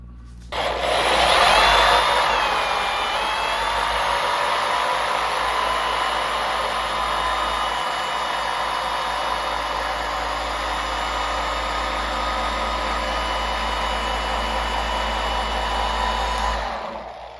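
A 15mm dual-action polisher correcting paint at medium speed gives a continuous high motor whine with a tonal hum. It starts abruptly, holds steady for about sixteen seconds and then cuts off, with no voices.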